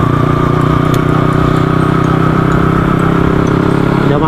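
Honda Wave 125s motorcycle engine, newly collected from the repair shop, droning steadily and loud while riding, with constant mechanical clatter and no speech.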